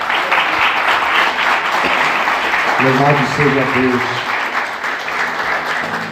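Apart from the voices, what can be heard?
church congregation applauding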